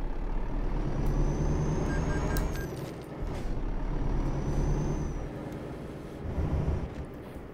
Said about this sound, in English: The wheels squealing with and without the ABS.